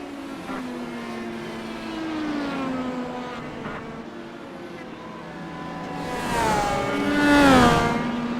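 Race cars roar around the track during a broadcast race, engine notes sweeping and shifting pitch as they pass, swelling loudest toward the end in a close, screaming drive-by.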